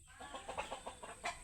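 Chickens cluck in a short run of soft, evenly spaced calls, fairly faint and somewhat distant over low background noise.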